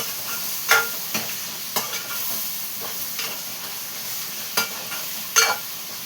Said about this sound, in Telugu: ఇప్పుడు ఇగో ఇలా రొయ్యలు వేసామా, ఇలాగా దగ్గరికి మగ్గితే భలే రంగు వస్తుందండి.